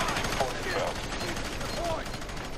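Constant rattle of combat gunfire in the shooter F.3.A.R., heard as an unbroken dense din with a voice mixed in, and no single shotgun blast standing apart from the noise.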